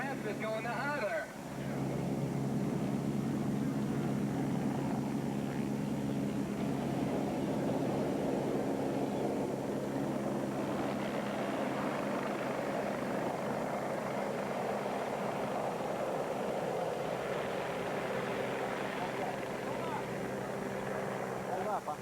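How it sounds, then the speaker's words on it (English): A helicopter drones steadily overhead beside a 1986 NBL Grand National BMX race, its rotor hum loud and continuous from start to finish, with a crowd and voices mixed underneath. "I'm taking a picture of the helicopter."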